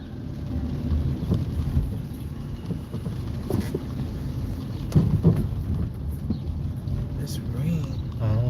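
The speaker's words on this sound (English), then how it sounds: "It's rain." Continuous rain with low rumbling thunder rolls on steadily throughout, loud and close with wind-like noise, while faint voices talk intermittently underneath.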